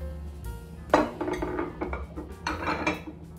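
Ceramic plates and dishes handled in a home kitchen, with several close clinks and knocks of crockery and cutlery set down or shifted over a few seconds, no talk.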